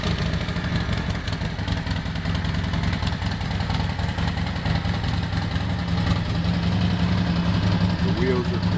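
A 2009 Thunder Mountain Custom Spitfire softail motorcycle with a fuel-injected 1200 Sportster engine idles nearby, a steady, even mechanical rumble that runs throughout while someone talks over it.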